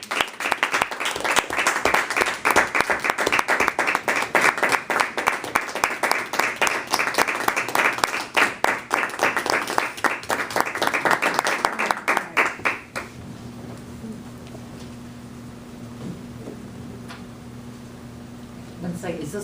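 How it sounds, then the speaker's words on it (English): A small audience claps after Mary Long's icebreaker speech in a meeting room. The applause is steady and close for about thirteen seconds, then cuts off, leaving a quiet room with a low hum and faint shuffling. "a big round of applause for Mary Long doing her icebreaker speech"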